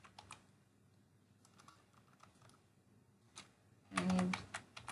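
Keys clatter on a computer keyboard in quiet bursts, soft scattered taps early on and a louder, denser flurry of strokes near the end, with no voices over it.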